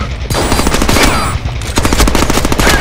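Rapid bursts of shotgun fire in the Deadpool video game, loud, close blasts coming one after another with a continuous roar of combat around them.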